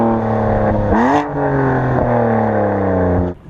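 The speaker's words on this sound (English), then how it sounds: "We've got Dinan cans and a Remus straight pipe mid pipe with active exhaust." A BMW M4 with a 7-speed DCT, Dinan cans and a Remus straight-pipe mid pipe with active exhaust, revving loud and close, the engine note climbing sharply, holding a droning high idle, then dropping off.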